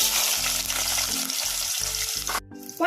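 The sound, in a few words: onion frying in oil with mustard seeds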